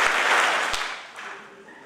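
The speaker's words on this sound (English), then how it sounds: "If you agree, clap 3 times and wave your hands." An audience at a pharmacy school white coat ceremony at the University of Charleston breaks into a burst of applause that starts fairly loud and gradually fades over about two seconds.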